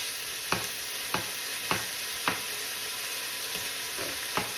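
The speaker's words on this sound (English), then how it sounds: "I'm gonna let this do some sauteing just real quick" Cube steak sautéing in an Instant Pot, a steady close sizzle with regular scraping stir strokes about every half second, no talking.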